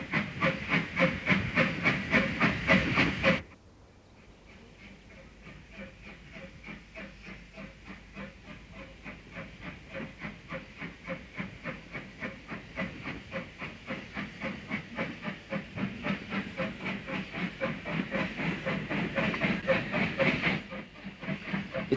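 Steam locomotive Stepney arrives on the Bluebell Railway in 1960, a loud hiss of steam cutting off abruptly, then a long run of rhythmic chuffing and clanking that slowly builds in strength.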